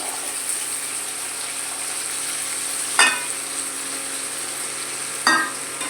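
Arum root paste with spices and green peas sautés in a pan, giving a steady close sizzle with two sharp scraping stirs about two seconds apart.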